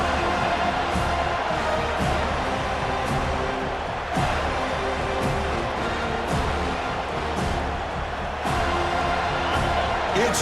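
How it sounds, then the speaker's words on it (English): Dense, sustained roar of a large football stadium crowd at a Miami vs Florida State game, loud and continuous with swelling cheers throughout, a broadcast announcer faintly audible beneath the noise. "this crowd is fired up. Listen to this noise here."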